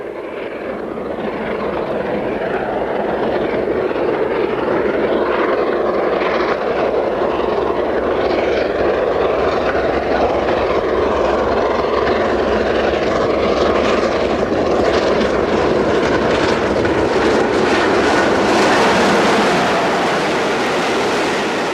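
Steam locomotive Bahamas hauling the Silver Jubilee excursion from Oxenhope to Carlisle, a loud, sustained roar that swells as the train draws near and holds steady throughout, with no voices.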